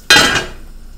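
A lid is set onto a cooking pot holding sweet potato chunks being fried for a vegetable dish: one sharp metallic clank that rings briefly and fades within about half a second, close and loud, with no talk.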